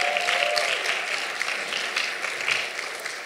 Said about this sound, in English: give yourself a round of applause celebrating 9 years here at Legacy